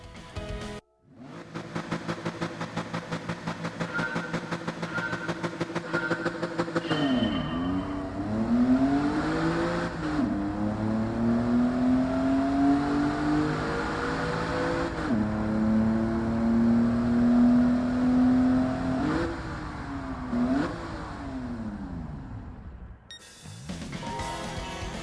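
In Gran Turismo 7, a race car's engine winds down under hard straight-line braking with repeated downshifts toward first gear. The pitch sweeps down and then blips back up several times, loud and close, with no talk.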